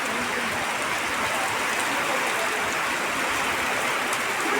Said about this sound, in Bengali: বৃষ্টি, কত সুন্দর বৃষ্টি।